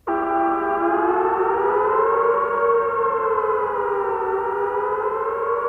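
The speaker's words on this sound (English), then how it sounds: "the following warning siren will sound in your homes" A loud, sustained civil defence warning siren wails on a steady note, its pitch drifting slightly up and down, with no voices.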